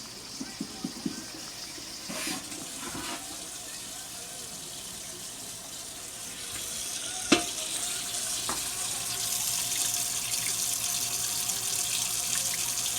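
Running tap water pours steadily over a pasta strainer in a kitchen sink, a continuous splashing rush with a few clinks of the strainer and muffled talk in the background.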